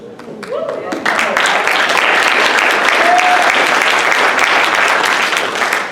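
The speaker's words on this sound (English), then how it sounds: "I don't deserve them claps" A conference audience breaks into loud applause that swells after the first second and holds steady, with scattered voices and cheers mixed into the clapping.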